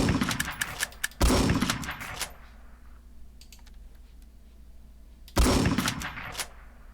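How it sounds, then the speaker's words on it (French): Gunfire striking a player's base in the video game War Tycoon: a dense burst of rapid shots, a second heavy volley, a quieter stretch with faint clicks, then another loud volley. "On a vraiment tiré sur ma base."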